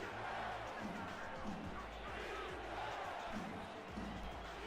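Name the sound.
stadium crowd getting loud, from a football video game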